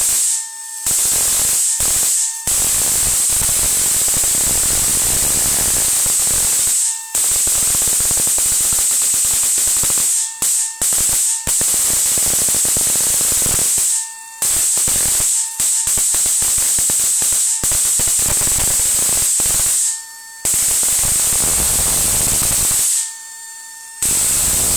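High-voltage discharges through a homemade salt water capacitor crack and hiss in loud, harsh bursts, with repeated sharp snaps and sustained fizzing broken by short pauses.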